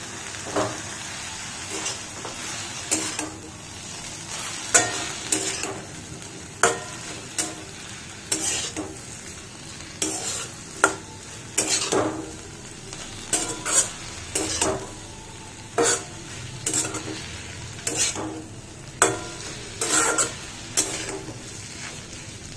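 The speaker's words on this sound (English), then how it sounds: "Let the noodles get fried nicely, then I'll add little sauce." Noodles with bamboo shoots and fresh tomato frying and being stirred in a pan for an Indian vegetarian Jain dish, a steady sizzle broken by repeated scraping strokes of the spatula, close and fairly loud.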